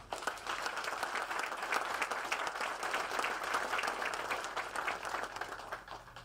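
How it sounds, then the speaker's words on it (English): Sustained, dense applause from the audience at a county courthouse groundbreaking ceremony. Many hands clap evenly and fairly close for about six seconds with no talking over it. "how about an applause for Valde?"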